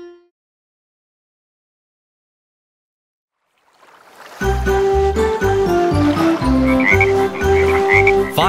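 Cartoon frogs croak in a nursery rhyme song, entering after about four seconds of silence and repeating in a steady rhythm over a bright, loud musical backing.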